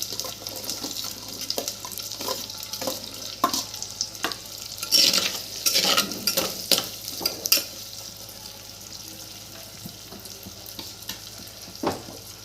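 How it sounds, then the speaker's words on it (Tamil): Dried red chillies added to onions and frying in a clay pot, a soft sizzle with scattered stirring scrapes and clinks, a brief burst of louder frying in the middle, then quieter occasional taps, close by with no speech. "எடுத்து வச்சிருந்த காஞ்ச மிளகாவும் சேர்த்துக்கிறேன்"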